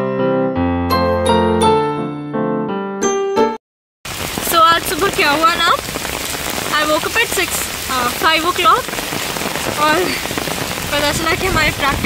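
Heavy rain pours steadily in a dense, close hiss at a college in Mumbai, following a brief stretch of tonal music that ends in a short silence.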